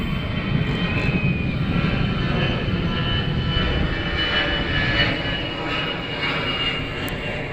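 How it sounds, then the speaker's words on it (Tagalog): An airplane passes overhead near a reclamation area, a loud steady engine roar that swells and fades slightly across several seconds, with no talking. "aeroplano"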